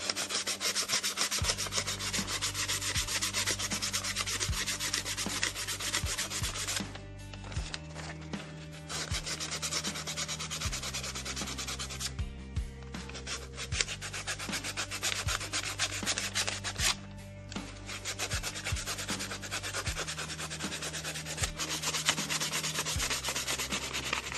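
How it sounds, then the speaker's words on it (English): Light hand sanding of a 1911 pistol with 280-grit sandpaper, steady back-and-forth rubbing strokes heard close up over a low background hum, with no talking. "So now I've got some 280. I'm just going to give it a light sanding, very light."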